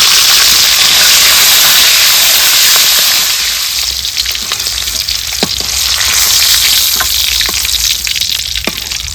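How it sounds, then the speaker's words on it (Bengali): Capsicum lightly frying in a pan, a constant hissing sizzle that eases after a few seconds, punctuated by sharp clicks and pops from stirring, no talk. "ক্যাপসিকামটাও হালকা ভেজে নিব।"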